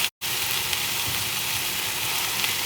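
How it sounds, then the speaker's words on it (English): Ground meat dropped into a hot pan for a cottage pie sizzles loudly and steadily up close, with a brief gap at the very start and no talking. "Hear that nice sizzle?"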